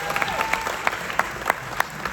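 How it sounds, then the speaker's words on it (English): An audience at a documentary premiere panel discussion applauds, a steady wash of clapping from a crowd with some sharper individual claps standing out, heard fairly close and without talk. "give them all a big round of applause tonight"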